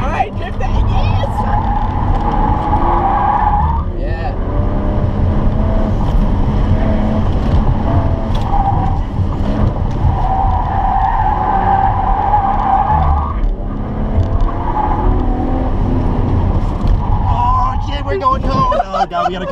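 Car drifting on a course with tires skidding and squealing over a loud, steady engine roar, continuous and close throughout, with people talking excitedly over it.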